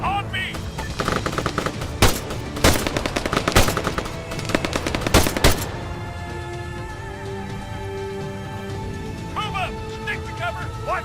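Rapid machine gun fire and scattered gunshots from an Arma 3 firefight, loud bursts over the first six seconds, then fading to distant pops, with voices shouting in the background.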